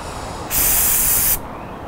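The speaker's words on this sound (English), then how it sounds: "I've bought this athlete's foot spray and it's a liquid. So if you look, it's just spraying off." An aerosol can of liquid athlete's foot spray gives one loud, steady hiss lasting under a second, starting and stopping abruptly against a quiet background.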